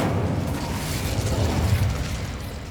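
Incendio fire spell cast in Hogwarts Legacy: a loud, sustained roaring burst of flame with rumbling low end, dense and continuous for a few seconds, no talk over it.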